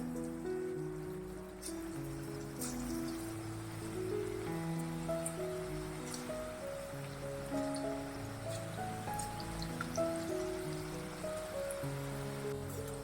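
Small balls of cabbage pakoda batter sizzle and crackle in hot oil over a medium gas flame, a soft continuous frying hiss with faint sustained tonal sounds underneath.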